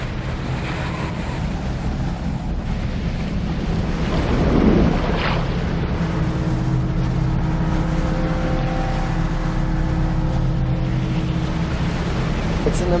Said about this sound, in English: 12 hours after leaving the Cape Horn astern, the storm hit.